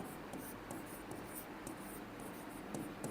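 A pen scratching out a chemistry formula by hand on paper, a continuous close soft scraping with small strokes and pauses, brief and faint, no voices.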